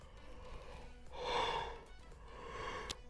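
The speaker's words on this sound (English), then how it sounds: "but I just yawned" A single drawn-out human yawn swells in the middle, breathy and voiced, then tapers into a softer exhale, close to the microphone with no talking.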